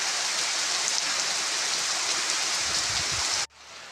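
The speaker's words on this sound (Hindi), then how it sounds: "इतनी तेज़ बारिश आने लग गई है कि कोई बोलने की बात ही नहीं है भाई" Heavy rain pours steadily in a dense, loud roar that cuts off abruptly near the end.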